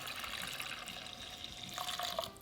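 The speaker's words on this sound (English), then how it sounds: "Pour in the reserved shrimp cooking water." Reserved shrimp cooking water pours into a hot pan of peanut butter and hoisin sauce, a steady close liquid splash and trickle lasting a couple of seconds, alone with no talking.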